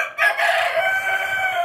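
A chicken rooster crows loudly and close by in a breeder cage, one drawn-out call with nothing else heard.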